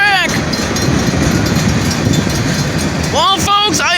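A freight train in Morenci, Michigan moves onto a spare track, giving a steady, loud rolling rumble roughened by wind noise on the microphone. Bird-like chirps or squeals come through near the end.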